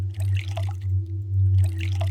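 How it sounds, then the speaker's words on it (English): Water trickles and splashes into an empty bottle at a wash basin in the game Arx Fatalis, a close liquid patter over a constant low hum, with a short quiet gap midway. "When you find wash basins, you can go ahead and use your empty bottles and fill them with water"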